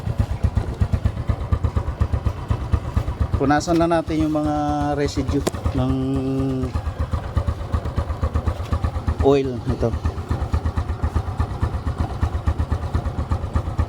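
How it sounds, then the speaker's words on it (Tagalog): A Suzuki Smash 115 motorcycle idles after a tune-up and new spark plug, with a steady, rapid, loud thumping throughout while someone talks over it. "So yan, mandar na yung ating motor."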